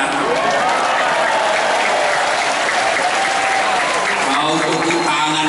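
Audience applause at an Indonesian religious lecture hall, a steady wash of clapping that fills the whole stretch at close range, with voices mixed in underneath.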